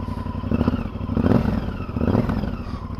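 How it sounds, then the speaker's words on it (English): A Honda XL1000 Varadero motorcycle engine revs in a few throaty surges, its raspy exhaust rising and falling close by. "Lovely raspy sound to the exhaust."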